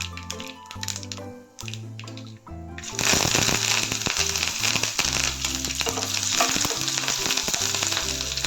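Mustard seeds dropped into hot sesame oil for a banana flower pickle, starting as quiet tinkling with soft music and then bursting into loud, steady sizzling and crackling frying that runs on under the music.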